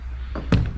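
A heavy wooden church door swings shut with a solid thud and brief rattle of its latch, close by in a quiet interior.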